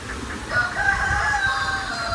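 A rooster crows loudly nearby on a flooded backyard farm after a typhoon, a long drawn-out call, while other chickens cluck faintly in the background.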